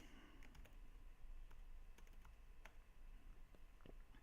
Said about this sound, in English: I'm like typing it and saying it at the same time.